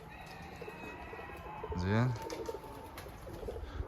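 Pigeons of an Iraqi breed kept in Germany coo outdoors, a low rolling coo swelling once near the middle, with faint chirps and a voice speaking briefly around it.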